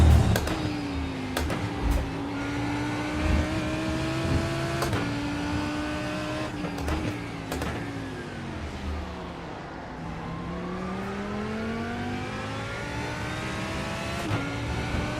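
Porsche GT3 race cars in iRacing at Road Atlanta or Portimao give a loud, continuous engine drone as revs climb through the gears, with sharp shift drops, a long dip and recovery through a corner, and brief tire squeal.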